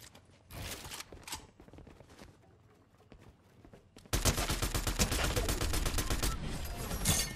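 Sniper gunfire in Fortnite Chapter 5, a few sharp cracks early on, then a long dense stretch of rapid loud shots, with no talk.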